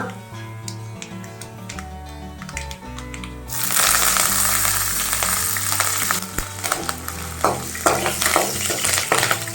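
Curry leaves and urad dal crackle in hot oil while tender jackfruit thoran is being made; a steady busy sizzle jumps suddenly louder partway through and keeps spitting near and bright, with faint music underneath.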